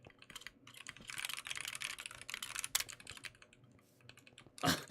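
Rapid typing on a computer keyboard, a dense run of clicky keystrokes that is steady and fairly close, then a brief louder burst near the end.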